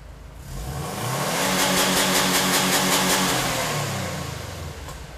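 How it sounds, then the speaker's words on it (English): A Subaru WRX STI engine revs up hard and holds a rapid, stuttering crackle on its two-step launch control limiter, then drops back down; loud, close, no talking. "Here's the car running, and here is the car with the two-step."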